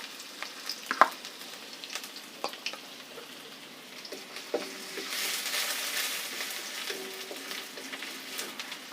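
Chopped ginger and garlic fry in a pan with dried red chillies for a chilli chicken, a soft sizzle broken by scattered stirring scrapes and taps, swelling louder partway through.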